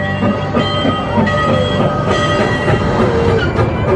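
An amusement park train rumbles steadily past at close range through forest, with rhythmic clattering of wheels on track and a faint metallic squeal.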